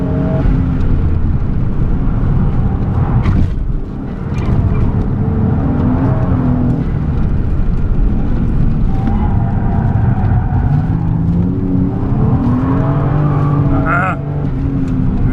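A 1994 Toyota Mark II Tourer V JZX90 laps the Suzuka circuit, its engine droning steadily and shifting pitch as it works through corners, loud and close throughout the run with no pauses.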